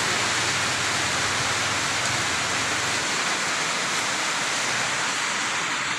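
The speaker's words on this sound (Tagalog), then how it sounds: "Super ulan-ulan." Heavy, steady typhoon rain in Mindoro pours down without a break, a dense hiss that fills the whole clip with no voices.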